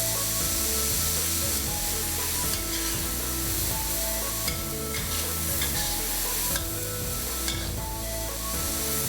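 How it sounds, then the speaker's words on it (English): Minced meat stir-frying in oil in a pan, a steady close sizzle with rhythmic scraping and stirring strokes of a utensil against the pan throughout. "Fry the meat till it changes color."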